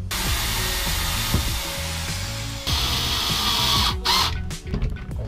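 A power drill boring into the door of a camper van during a DIY conversion, a steady continuous whine that runs the whole time, shifting pitch partway through and breaking up near the end.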